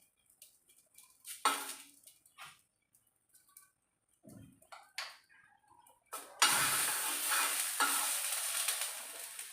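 Mumbai street-style pav sandwich toasting in butter on a pan, with scattered scraping and tapping at first, then a louder, steady sizzle that swells near the end.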